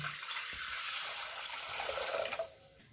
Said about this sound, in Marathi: गॅसवर पातेलं ठेवलंय, यात एक तांब्यावर पाणी ओतते